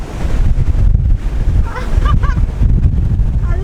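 Strong wind buffets a moving car on a road trip in the Philippines, a loud steady roar of wind noise near the microphone with a brief faint tone in the middle.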